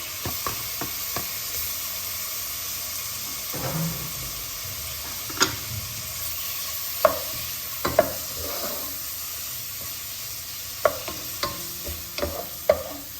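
Chicken breast pieces searing in butter and oil in a pan, a constant close hiss of frying with sharp intermittent clicks and scrapes of a utensil stirring, no voices.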